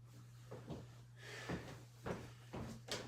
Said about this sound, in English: door closed.